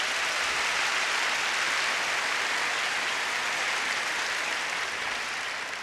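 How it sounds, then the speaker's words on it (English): An audience at a school district convocation applauds in a dense, sustained wash of clapping that holds steady for the whole stretch. "Let's give everybody a real big round of applause."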